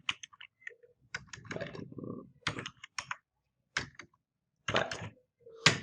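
Someone types a pip install command for the MySQL Python connector on a computer keyboard, giving quick irregular clusters of clicks with short gaps, close and clear in a quiet room.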